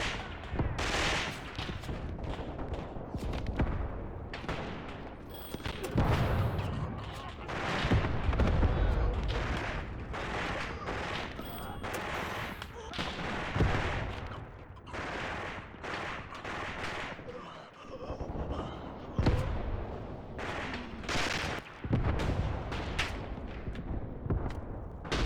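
Dense battlefield din from the Graviteam: Pivot Point war game: continuous artillery booms, rifle shots and machine-gun bursts overlapping for the whole stretch, loud and near with occasional heavier blasts.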